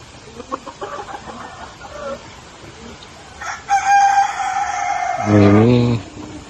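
A rooster crows loudly at a chicken coop built above a freshwater fish pond, a long rising call with a harmonic sweep, preceded by softer clucking and faint background voices.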